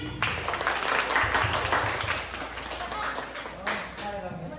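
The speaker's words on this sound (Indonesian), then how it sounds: "Tepuk tangan yang lain." An audience at a psychoeducation seminar applauds, a dense sustained clapping from many hands that swells early and then eases slightly, with voices mixed in underneath.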